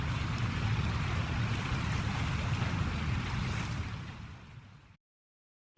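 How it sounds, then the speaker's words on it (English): An ocean wave crashes in the video game Edelweiss, a loud, close, continuous rushing roar of surf and wind that tapers briefly and then cuts to silence. "rushing water slammed into us and we disappeared beneath the wave"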